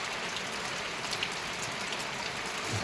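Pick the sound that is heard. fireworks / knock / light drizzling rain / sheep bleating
light drizzling rain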